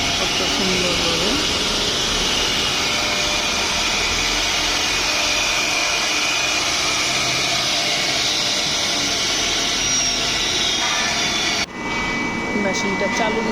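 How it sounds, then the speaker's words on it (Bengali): An embroidery design machine with a freshly repaired spindle bearing runs continuously with a loud, dense mechanical whir and rattle, steady throughout, with a change in tone near the end; a voice talks over it. "এইভাবে নকশার মেশিনটা আসলে এইভাবেই চলে"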